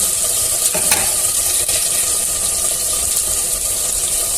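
Garlic paste, ginger paste and roasted coriander powder sizzle loudly in hot oil for a dal and soya chunk dish, a steady frying hiss broken by a few scraping stirs.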